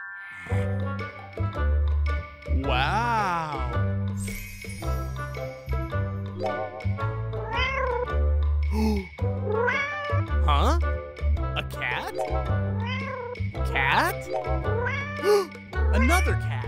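Cat meows ring out repeatedly among children's playful voices and bright music, several rising, wavering calls standing clearly above a steady bed of sound.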